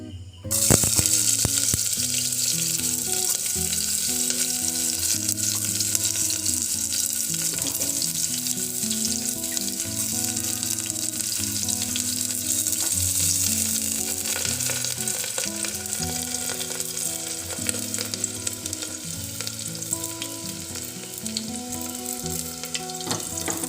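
Onion pieces frying in smoking-hot oil give a continuous, fairly even sizzle that runs throughout, heard under steady background music.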